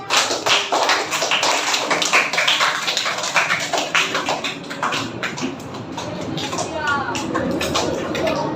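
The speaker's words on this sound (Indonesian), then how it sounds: "Oke, beri tepuk tangan untuk kelompoknya." A class claps for a group in a classroom: a dense patter of many hands clapping, fairly close and continuous, easing off slightly toward the end, with voices murmuring underneath.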